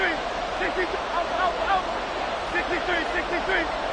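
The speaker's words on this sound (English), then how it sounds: "A big play here as the crowd noise rises" A stadium crowd roars in the American football video game Madden 23, a broad continuous swell of cheering that stays fairly loud throughout, with voices and whistle-like calls scattered through it.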